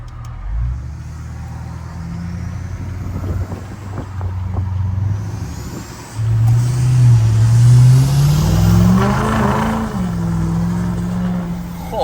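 An L5P Duramax diesel pickup doing a burnout in manual mode on a street corner, a loud continuous engine roar that surges and climbs in pitch partway through, with wind buffeting the microphone and no talk.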